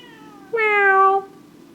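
One clear, drawn-out cat meow, close and fairly loud, falling slightly in pitch and lasting about two-thirds of a second over a quiet room background.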